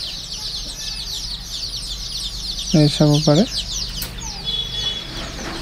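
Local chickens on a small farm give a short burst of three or four loud, close clucks over a background of steady chirping and farm noise, and a person briefly speaks.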